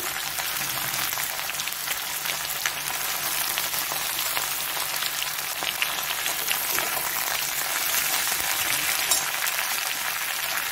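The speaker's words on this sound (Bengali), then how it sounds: "আমি ওই গাজর আর বরবটিগুলো দিয়ে দিচ্ছি।" Carrots and long beans fry in hot oil in a pan for shukto, a Bengali vegetable curry, producing a dense, even, rain-like sizzle that holds loud and steady throughout with no voices.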